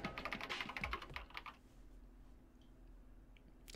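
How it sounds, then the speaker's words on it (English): Computer keyboard typing in the video game Danganronpa: a quick burst of rapid keystrokes that fades out after about a second and a half, leaving faint background hum, with no talk. "began typing, the words appearing as fast as I could read them"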